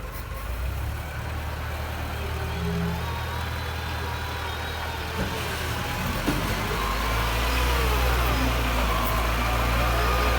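An XCMG LW156FV wheel loader, just delivered for scooping sand and gravel, runs its engine at a steady mid-pitched idle, loud and close, with faint whining tones and a slight rise in rumble toward the end.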